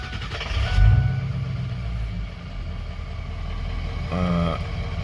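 2003 Ford Excursion with a 6.0 diesel, sitting four years, cranking briefly then catching into a steady rough idle with a low mechanical rumble, a short whirring chirp near the end.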